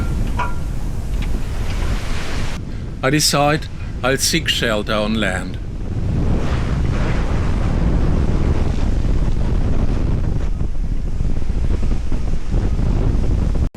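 Gale-force wind buffeting a sailing boat among big waves, a constant loud roaring rush with microphone wind noise throughout, while someone talks briefly in the middle.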